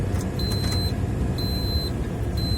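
A car cruising along an icy highway near Dmytrivka, with a steady, loud road and engine rumble and a high electronic beep tone that sounds three times at regular intervals.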